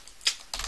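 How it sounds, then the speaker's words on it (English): Typing on a computer keyboard during a Linux terminal session, a crisp single keystroke followed by a short burst of clicking keys, close and clear without talk. "So I'll just start typing Springs."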